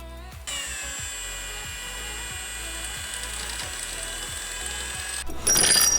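A ratchet backs off a wheel bearing press tool with a steady run of evenly spaced clicks under a faint hum, ending in a louder clatter of metal.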